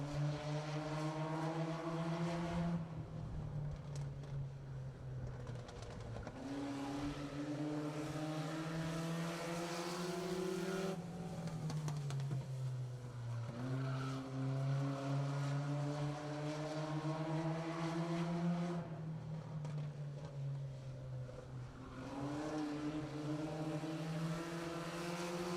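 Race car engine howling through a qualifying lap, first of two laps for Stasio, loud and continuous with rising and falling pitch as it works through gears and corners.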